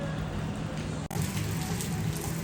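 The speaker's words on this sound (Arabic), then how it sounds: "الدنيا بتشتي والجو ممطر" Rain falls steadily outside in the street on a wet winter day, a dense, even patter close by that continues throughout with no voices.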